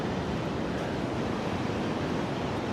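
Ocean surf on a beach washes steadily as a broad continuous roar with wind buffeting the microphone, no distinct breaks between waves.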